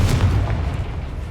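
A Confringo fire spell explodes in Hogwarts Legacy, a loud, deep boom with a rumbling low body that fades over about a second.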